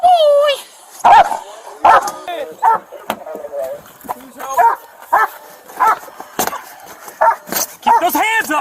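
A police dog barks and yips repeatedly in short bursts during a tense roadside stop, loud and close, interleaved with shouted talk from officers.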